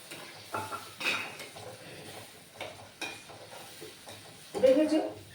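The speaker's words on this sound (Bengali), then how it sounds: "এবার আমি এর ভেতরে সর্ষেটা ঢেলে দেবো" Mustard paste goes into a hot pan for a stuffed pointed gourd dorma, bringing a soft close sizzle with stirring scrapes and taps, then a louder frying burst near the end.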